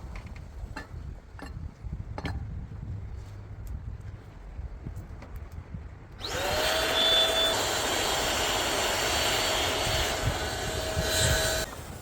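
A homemade gas bottle forge for melting brass and copper lights up partway through and settles into a loud, steady roaring burner hiss with a whistling tone, following quieter clattering and background noise.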